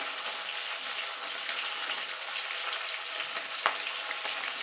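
A fish head frying in oil with salt and turmeric, a constant loud close sizzle with a brief sharp clink of utensil partway through and no talking.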